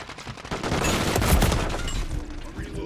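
A submachine gun firing in a video game: a short, dense burst of rapid shots fills a few seconds, loud and close, while a voice talks over it.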